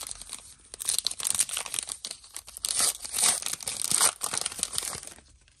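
An NBA Hoops trading card pack is torn open and crinkled up close, with bursts of crisp foil crackling and tearing that rise and fall, and no one talks.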